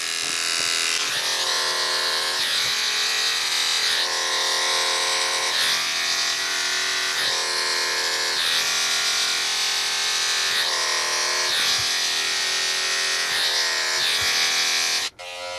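Cordless electric hair trimmers buzz steadily and close up while shaving a head, the motor's tone rising and dipping rhythmically as the blades move through hair, then cutting off abruptly at the end.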